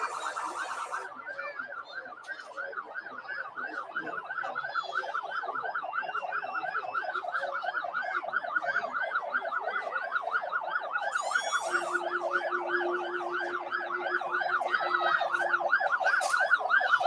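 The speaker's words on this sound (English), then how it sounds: "We're hearing those sirens and seeing those flashing lights." Emergency vehicle sirens at a Mardi Gras parade wail continuously in a fast rising-and-falling pattern, loud and steady, with a second tone joining partway through.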